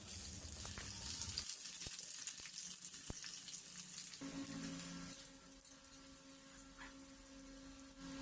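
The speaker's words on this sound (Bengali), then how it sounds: "বেশ লাল লাল করে আলুগুলোকে ভাজবো" Cut potatoes fry in mustard oil in a pan with a steady, close sizzle; partway through, a low electrical hum joins the frying.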